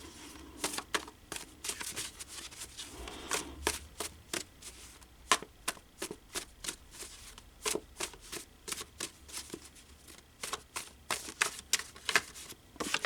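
Tarot cards are pulled and handled close up in a rapid, uneven run of crisp flicks, snaps and shuffling slides that continues steadily without pause.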